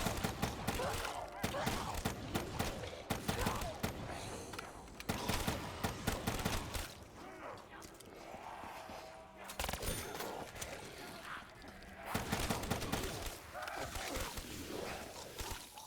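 Bursts of gunfire rattle repeatedly in a Call of Duty Black Ops zombies match on the Ascension map, loud volleys separated by short gaps, mixed with game noise and some talking.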